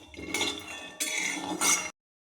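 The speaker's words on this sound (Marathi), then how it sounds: "शेंगदाणे असे भाजून घ्यायचे, चांगले लालसर होईस्तोवर भाजायचे." Peanuts roast in a pan, rattling and scraping against the metal as they are stirred in two or three close, bright bursts, with no talking.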